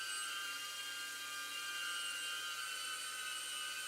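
A drone comes in for an automatic landing, its rotors giving a steady, high-pitched whine like a dentist's drill, loud and constant throughout with no talking.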